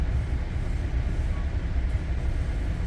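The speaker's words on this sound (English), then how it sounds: "Oh, look at this, we got a nice freight train." Freight train of metal boxcars passing, heard from aboard a commuter train: a steady low rumble and rolling rail noise, continuous and moderately loud with no talk.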